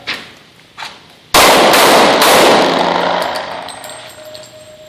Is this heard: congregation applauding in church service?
no